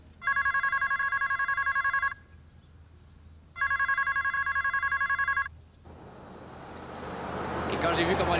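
Telephone ringing indoors in two long electronic ring bursts separated by a pause, loud and close, followed by rising background noise like traffic.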